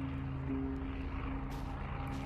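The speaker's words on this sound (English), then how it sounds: "That sounds like a plane." A propeller airplane drones overhead in the Surroundead video game, a steady mid-volume engine hum with harmonic tones holding across the whole stretch, alone without talk.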